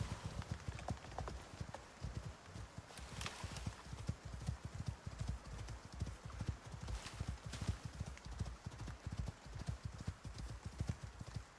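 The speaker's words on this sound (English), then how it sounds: "Oh, that's a horse." Horse hooves gallop in the survival game Icarus: a fast, steady clip-clop of hoofbeats runs close and loud for the whole stretch, with a few brief sharper bursts over the top.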